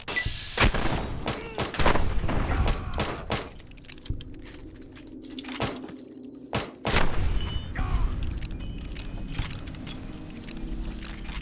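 Gunfire from the video game Fallout New Vegas: several sharp, loud shots and bursts scattered through the clip over a busy game soundscape, with brief gaps between volleys.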